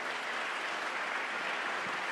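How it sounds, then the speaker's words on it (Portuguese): Audience applause at a pastoral workshop gathering, a steady dense wash of clapping that holds evenly throughout without voices. "Se você crê, dá um aplauso ao nome do Senhor aí."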